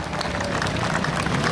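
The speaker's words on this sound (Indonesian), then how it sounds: "tepuk tangan untuk rekan-rekan sekalian" Crowd of assembled disaster-response personnel at a 2016 readiness parade, applauding together: a steady, dense wash of clapping throughout, loud and unbroken.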